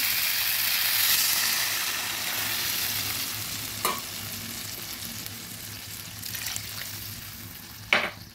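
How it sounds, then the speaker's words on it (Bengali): Potato and drumstick pieces frying in a pan, giving a continuous soft sizzle, with a couple of sharp splashy bursts as water is poured in near the end. "আলু সজনেটা সুন্দরভাবে ভাজা হয়ে গেছে। এবার দিয়ে দেবো জল।"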